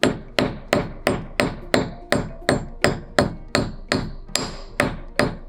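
Hammer striking aluminum decorative wire, thirteen sharp metallic blows at a steady, even pace about every half second, loud and close with a brief ring after each hit and no talking.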